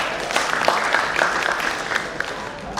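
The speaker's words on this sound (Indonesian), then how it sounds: "Tepuk tangan buat OJK." An audience at a 2018 stand-up comedy show applauds with dense, continuous clapping that fills the room for several seconds, with a faint voice mixed in.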